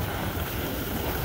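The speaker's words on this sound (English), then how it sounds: "The wind was just kicking up now, but it's been sunny and cold." Wind sweeps across a ski slope at Whiteface, a steady broadband rush with buffeting against the microphone and no voices.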